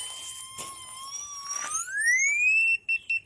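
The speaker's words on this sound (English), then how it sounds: "fast beeping means overload signal" A drain locator receiver hums a steady electronic tone, then rises sharply in pitch and breaks into a couple of quick, fast overload beeps.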